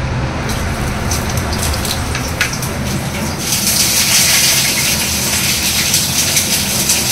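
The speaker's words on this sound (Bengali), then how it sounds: "কুমড়োটা ভর্তা বানানোর জন্য হালকা একটু ফ্রাই করে দেবো।" Pumpkin being lightly fried in a pan for a mashed bharta, heard as a loud, dense hiss that swells around the middle and stays steady to the end, with no voices.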